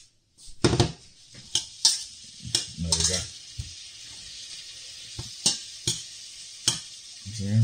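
Beef chunks for stoofvlees brown in a frying pan with a soft steady sizzle, broken by repeated sharp scrapes and clatters of a utensil stirring and turning the meat close by.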